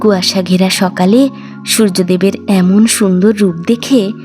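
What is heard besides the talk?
No everyday noise stands out behind the speech.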